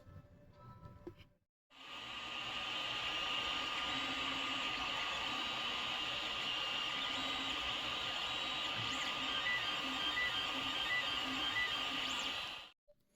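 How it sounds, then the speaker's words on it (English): A 3D printer prints a motorcycle mount, a steady, unbroken mechanical whir and hum with faint stepper tones over it, close and even for about eleven seconds after a short noisy start, then cutting off abruptly; no talking. "So let's send this thing to the printer."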